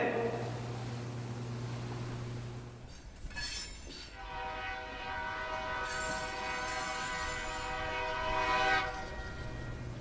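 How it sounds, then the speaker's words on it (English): Train whistle sounding low and drawn out from far away, a sustained tonal wail over rumbling rail noise that swells and fades across several seconds. "You hear that low, mournful whistle in the distance?"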